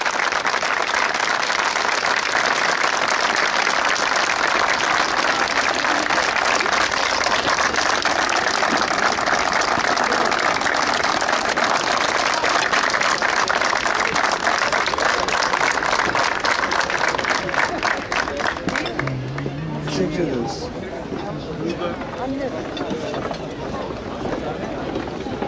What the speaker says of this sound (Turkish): Kendinizi alkışlayın, biz sizi alkışlayalım.